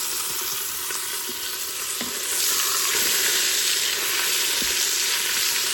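One pound of ground beef hamburger browning in a pot on the saute setting for a bacon cheeseburger soup, a loud continuous sizzle with faint scraping stirs, growing slightly louder partway through.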